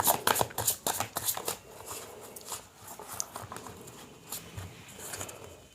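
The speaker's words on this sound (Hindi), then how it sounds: "कार्ड्स को मिक्स करना ना बहुत ज़रूरी होता है ना" Tarot cards are shuffled by hand in a quiet room, giving bursts of rapid papery riffling and flicking that come in clusters, busiest at the start and then continuing more softly with no talk.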